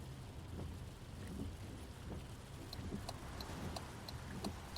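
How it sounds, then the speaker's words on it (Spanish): Heavy rain pours down steadily in a thunderstorm, a dense constant hiss with low rumbling underneath and scattered sharper drips, heard alone without any voices. "bajo la tormenta, bajo una copiosa lluvia"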